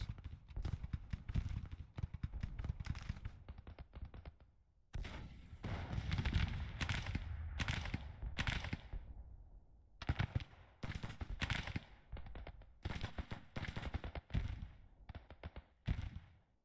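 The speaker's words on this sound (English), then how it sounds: "2nd Brigade's firing on those guns." Crackling infantry musket fire from a brigade shooting at artillery in the Civil War strategy game Grand Tactician, ragged volleys rolling in irregular waves with brief lulls, moderately distant.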